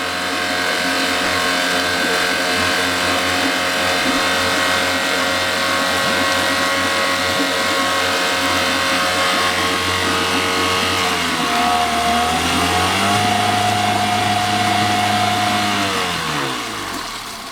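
An outboard motor runs and warms up, a loud steady engine drone that shifts lower in pitch partway through, then settles, with nothing else over it.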